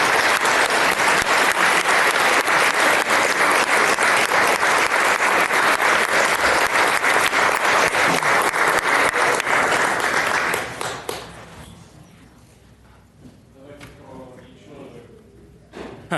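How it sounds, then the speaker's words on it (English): Sustained applause from a city council meeting audience for council members taking their seats, steady and full for about ten seconds before cutting off to quiet room sounds and a few scattered claps. "give our council members another round of applause while they take their seats"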